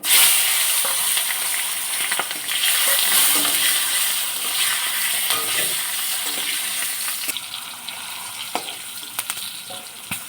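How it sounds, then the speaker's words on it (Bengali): Vegetables with salt and turmeric fry in hot oil, a loud, steady sizzle close by with scattered scraping and stirring clatter from a spatula, with no talk. "একটুখানি হলুদ দেবো, একটু ভেজে নেবো"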